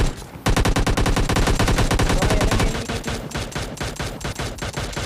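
Rapid bursts of automatic gunfire in the PUBG Lite battle royale game, loud and dense, dozens of shots in quick succession after a brief quiet start, easing slightly in the final seconds with no talking.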